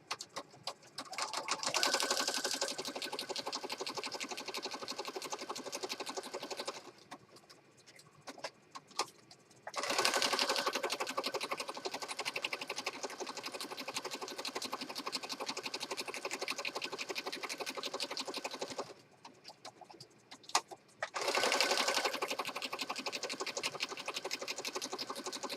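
A sewing machine stitching a Christmas journal, running in long steady buzzing stretches with brief stops between runs, close and continuous.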